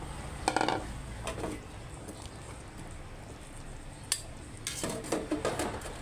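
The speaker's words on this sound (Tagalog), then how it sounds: "lalagay natin itong marble size na patatas" Marble-size potatoes dropping into a metal pot for pork nilaga bring a few clattering knocks and scrapes of kitchenware, scattered over quiet room tone.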